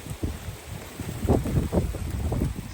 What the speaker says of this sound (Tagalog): Ito yung kalaban mo, hangin.